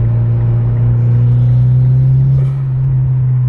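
Mitsubishi Lancer Evolution X engine idling and revving lightly at low RPM, a steady, loud, deep droning rumble heard from inside the car, with no talking.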